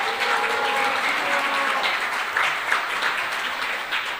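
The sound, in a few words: audience applause in city council hall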